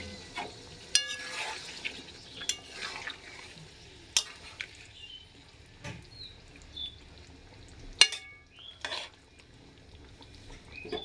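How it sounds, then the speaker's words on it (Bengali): Chicken with potatoes and yogurt simmering in a pan as water is added, with clinks of a spoon or utensil against the pan and soft sizzling and stirring throughout, no talk. "এবার একটু জল দিয়ে দিচ্ছি সিদ্ধ হওয়ার জন্য।"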